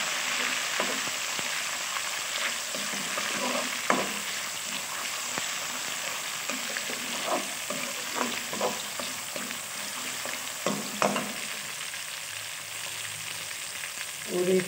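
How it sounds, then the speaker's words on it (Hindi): Tomatoes added to ginger and garlic frying in a pan, giving a steady sizzle with scattered stirring clicks and scrapes throughout. "तो हमारा अदरक लहसुन हल्का सा फ्राई हो गया और उसमें जाएगा यह टमाटर"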